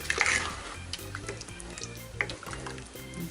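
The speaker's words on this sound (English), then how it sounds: "You're gonna put your peaches in there and stir them around." Peaches are stirred around in a pot for a peach cobbler, soft wet scraping and gentle sloshing with a faint sizzle, close and fairly quiet, with a few sharper clinks along the way.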